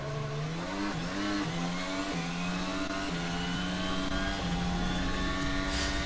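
Formula 1 cars at the start of the 2022 Spanish Grand Prix produce a loud, continuous engine howl whose pitch climbs and drops back with each rapid upshift, and no one speaks over it.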